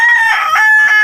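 A rooster crows loudly inside a chicken coop, one drawn-out call with a few rising pulses, close to the microphone and alone without talk.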